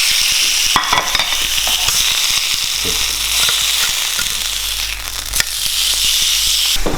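Loud, steady sizzling of tuna loin searing in a hot pan, a constant hiss with occasional pops and crackles, close up and with no voices.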